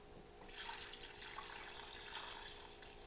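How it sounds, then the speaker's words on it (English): Tap water runs steadily into a soup pot for navy bean and ham soup, a continuous close hiss and splash with no talking. "Then we're going to get some water."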